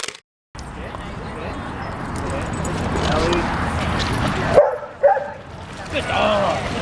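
A dog swimming out in the water barks and yips a few times at close range, the sharp calls breaking through splashing and a person's spoken voice.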